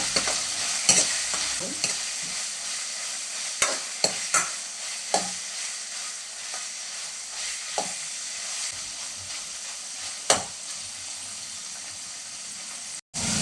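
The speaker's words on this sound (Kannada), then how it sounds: "ಈಗ ಕೆಂಪು ಬೆಳ್ಳುಳ್ಳಿ ಪೇಸ್ಟ್ ಹಾಕಿದ್ದೀನಿ" Red garlic paste fries in a pan for veg fried rice, a steady sizzle and hiss broken by sharp scrapes and taps of stirring, close and alone without talk.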